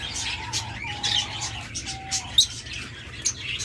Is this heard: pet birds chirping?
yes